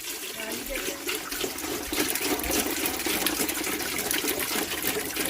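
Spring water pours steadily into a cooking pot for boiling crabs, a continuous close rushing splash that holds even and loud throughout, with no voices over it.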